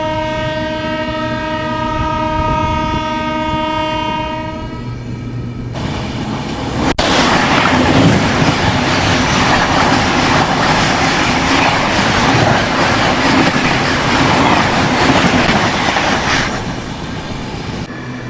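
A Humsafar Express train pulls into Bangarapet Junction, opening with a long sustained horn, then loud rumbling wheels and clattering carriages rolling past close by for the rest of the stretch.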